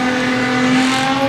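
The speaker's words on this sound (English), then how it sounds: "The engine was running the whole time." Production sedan race car idling steadily at Moora Speedway during a yellow-light delay, a loud, constant engine drone with a sustained low hum and no talk.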